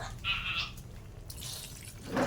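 Water pours from a tap into a cooking pot of adobo in short bursts, splashing and hissing close by, with brief pauses between pours.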